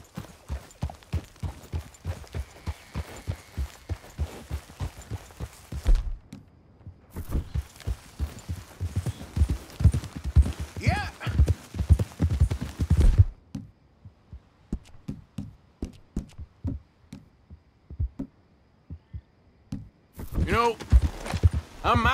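Horse hooves clip-clop at a steady walking rhythm in the Red Dead Redemption 2 video game, close and clear, pausing briefly before resuming, with voices talking over parts of it.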